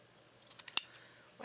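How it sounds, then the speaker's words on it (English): Grandma's scissors snip through craft paper scraps at a desk, a short run of quiet clicks building to one sharp loud cut, then near silence. "I think I can handle that one with my scissors."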